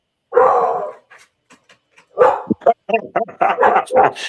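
A dog barking loudly and close, a long bark followed after a pause by a rapid run of sharp barks and yips, with some speech mixed in.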